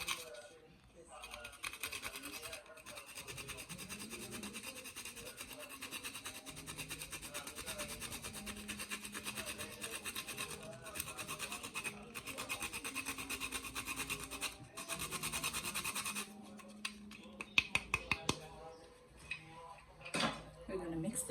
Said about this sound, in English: Grate a nutmeg.